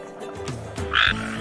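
A small frog croaks a few times, loud and close, in short throaty bursts over a low tonal background.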